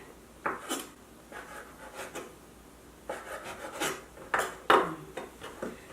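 A knife cuts through rolled gimbap on a cutting board in a series of short, scraping slices with soft knocks against the board, irregularly spaced and fairly close.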